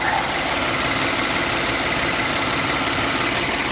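The engine cooling fan of a cold Ford F-150 runs with a loud, steady broadband whoosh over the underlying engine hum, close by and unbroken.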